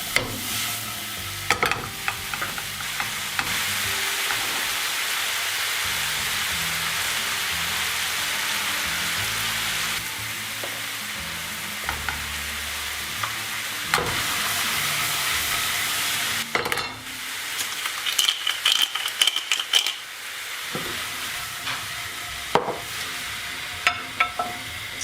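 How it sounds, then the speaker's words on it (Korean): Food stir-fried in a pan with dried thyme, a steady close sizzle with repeated scraping stir strokes and clatter, easing off toward the end. "바싹 볶아줍니다."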